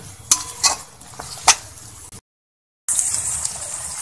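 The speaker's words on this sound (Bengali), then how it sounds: "এখন আমি আরো কিছু সময় এটাকে একটু ভেজে নিচ্ছি।" Dried shidol fish fries in a pan, a close, hissing sizzle with a few sharp scrapes from stirring, then a brief dead silence before the crackling frying resumes more steadily, with no one speaking.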